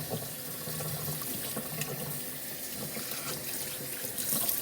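A kitchen tap runs steadily at fairly high pressure while a turkey is rinsed in the sink, giving a continuous close splashing hiss with no speech.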